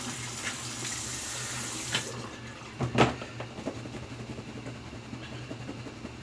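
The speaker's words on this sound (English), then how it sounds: "Rinse out the brush. And then I'll do a good face rinse" Tap water running into a sink while a shaving brush is rinsed, a steady close hiss and splash with a few clunks and splashes of handling over it.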